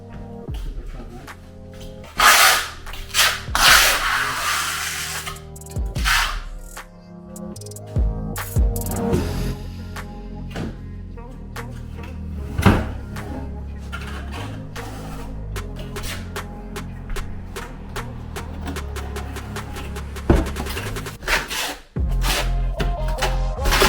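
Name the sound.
trowel back-buttering stacked stone with white thinset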